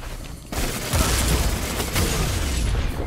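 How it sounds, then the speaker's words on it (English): Heavy gunfire and booming blasts from the shooter game Destiny 2 fill the scene, a dense continuous fusillade with low rumbling impacts that swells after a brief quieter opening. "These guys are shooting somebody."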